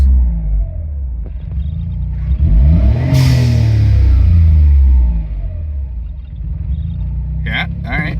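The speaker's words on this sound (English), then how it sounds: "what about if I just rev it in place?" A Suzuki Cara Autozam AZ-1 fitted with a Keisport PNP revs in place in a garage, its engine climbing to a loud peak and falling back to a rumbling idle.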